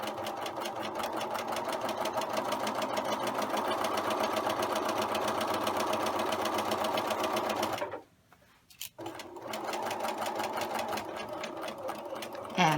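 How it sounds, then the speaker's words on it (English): Sewing machine stitching down a seam, a loud rapid continuous rattle that stops briefly for a pause, then resumes. "We'll back stitch, and then stitch all the way down."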